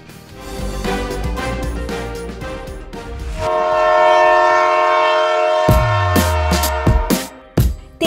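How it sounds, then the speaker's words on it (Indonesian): A long-distance passenger train in the United States sounds its horn in a loud, sustained blast that opens after a busy rumble of rolling cars, followed by a few shorter horn bursts and clattering near the end. "kereta jarak jauh di Amerika Serikat itu seperti apa sih?"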